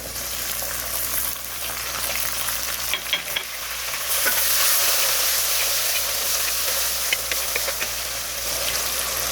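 Chopped tomatoes added to garlic frying in a pan, a steady sizzle and hiss that swells louder partway through, with scraping stirs of a spoon against the pan.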